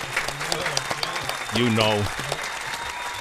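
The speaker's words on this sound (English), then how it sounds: "Give that man a big round of applause." An audience applauds Baron Davis at an NFT presentation in New York City, the clapping steady beneath a voice that keeps talking over it.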